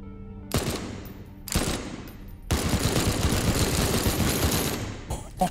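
The Strelak Verso, a Deathloop weapon that transforms from pistols to SMG, fires in rapid bursts. Two short bursts are followed by a long, continuous stream of shots, loud and close.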